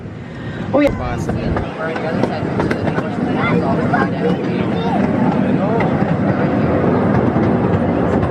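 A safari park ride train rumbles and clatters along the tracks with a steady roar, and people talk over the noise throughout.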